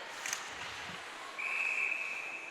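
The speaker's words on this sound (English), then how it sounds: "And we get a whistle" At a women's professional ice hockey game between Boston Pride and Minnesota Whitecaps, a referee's whistle sounds as one long, shrill, sustained blast over faint arena crowd noise.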